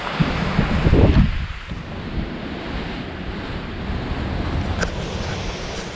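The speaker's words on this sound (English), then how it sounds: "the wind is still bad once you get into these, you know, washes" Strong wind gusts buffet the microphone on a Guadalupe Peak hike in Texas, a heavy rushing roar that swells loudest early on, then settles into a steady, blustery whoosh.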